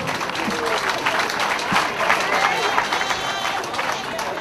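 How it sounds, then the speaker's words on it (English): Audience at a union gathering claps to welcome a speaker introducing Ghana's Vice President; a continuous wash of hand-clapping fills the hall, mixed with crowd babble and voices talking over it. "Let's receive him with a clap."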